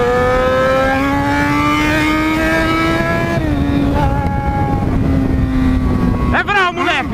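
A Honda CB1000 motorcycle accelerates hard in a crowded street gathering in Londrina, its engine note climbing steadily through the gears with a shift dip midway, loud and close, ending in sharp revving bursts while people talk over it.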